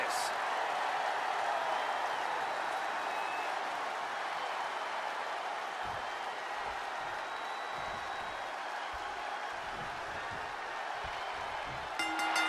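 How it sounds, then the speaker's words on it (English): A packed WWE 2K22 wrestling arena crowd roars and applauds with a steady, dense wash of noise that lasts throughout, as a commentator's voice speaks over it. "This capacity crowd is waiting with bated breath."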